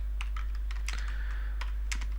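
A username is typed on a computer keyboard, heard as a short run of clear, close key clicks at an uneven pace over a steady background hum.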